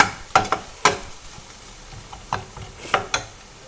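Turmeric and spices fry gently in a pan over a low flame for a Garhwali aloo thichod, with a soft sizzle broken by several sharp scraping strokes of a spatula, close by.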